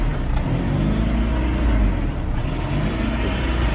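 A Honda Civic engine running after repair with a new instrument cluster installed, a steady loud low rumble close by, holding an even idle throughout with no talk.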